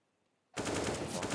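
Counter-Strike AK rifle fire at a professional Inferno match erupts after a brief hush into a loud, rapid burst of cracking shots that carries on without a break, close and harsh.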